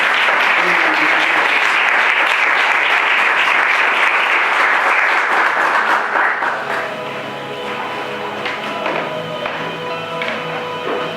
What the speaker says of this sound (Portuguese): você pode se assentar aplaudindo o Senhor bem forte